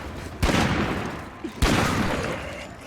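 Two loud gunshots in a video game, one after another about a second apart, each a sharp crack with a long echoing tail over steady background noise.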